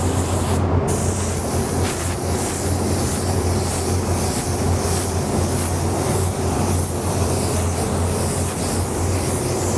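A spray gun laying down one even coat of candy paint, a continuous close hiss under a low background hum, with no one talking.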